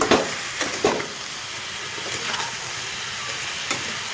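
Broccoli, soybean chunks and potato frying together in a pan with salt and turmeric, a steady low sizzle with a few sharper scraping bursts from stirring near the start and end.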